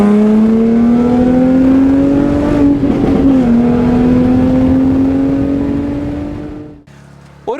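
A Jaguar F-Type Coupe V6 in dynamic mode revs hard and close, its engine note climbing steadily for several seconds with a brief stutter midway, then cutting off abruptly near the end.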